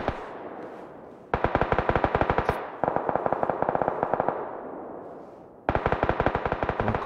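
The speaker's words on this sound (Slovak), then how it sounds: "Ale po tebe strieľajú." Automatic gunfire fired at the player in a video game comes in rapid bursts of sharp, echoing shots, loud and close, with brief pauses between volleys.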